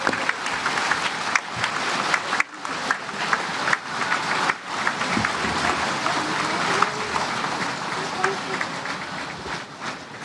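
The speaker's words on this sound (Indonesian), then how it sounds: "Sudah cukup tepuknya." Sustained applause from a large audience fills a parliament hall, a dense, steady clatter of many clapping hands with a brief dip partway through before it resumes.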